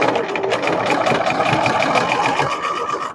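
A sewing machine runs continuously, stitching over an existing seam on a toiletries bag, with a steady rapid mechanical hum and needle chatter, close and loud, with no talking.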